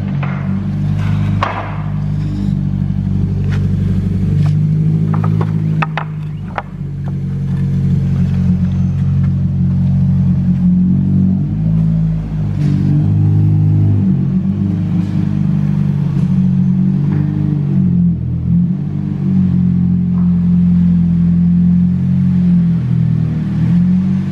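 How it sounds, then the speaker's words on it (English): Car engine idling and creeping slowly into a garage, a steady low rumble with occasional thumps and light revs, close and continuous with no talking. "So now we're gonna put Eric's car away."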